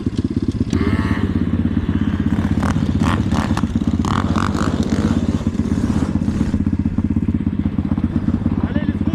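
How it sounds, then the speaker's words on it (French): A Yamaha Raptor 250 quad bike idles loudly nearby with a steady throbbing exhaust pulse, while a person talks over it and clattering knocks sound intermittently. "Reiko vient d'arriver avec son petit quad"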